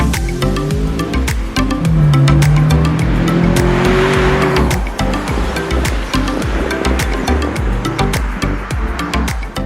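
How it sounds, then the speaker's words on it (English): A 2006 Honda Accord Euro with a manual gearbox revs hard and loud, its engine note climbing and holding across several seconds, with rapid pulsing and tire noise beneath. "The first thing about this car that I absolutely love is the noise."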